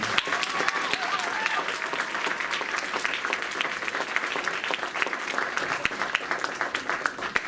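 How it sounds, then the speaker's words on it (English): Steady, dense applause from a large audience at an arts hall of fame induction ceremony, loud and sustained throughout with many hands clapping together. "Can we give them a big round of applause?"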